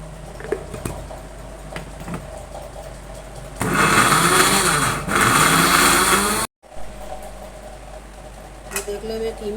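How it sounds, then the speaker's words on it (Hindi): An electric grinder whirs loudly for a few seconds, mincing keema with ghee, then cuts off abruptly amid quieter kitchen clatter before and after. "मैं इसका ढक्कन लगा के अब मैं इसको पीस रही हूँ"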